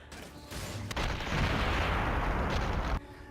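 Heavy gunfire from Gears of War 2, a dense loud roar of shots and blasts running for a couple of seconds before cutting off abruptly.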